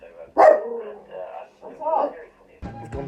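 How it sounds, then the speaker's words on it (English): An indoor dog gives a sharp bark followed by whining, yelping vocal sounds at close range, with a brief knock near the end. "This dog is what I have to deal with, guys."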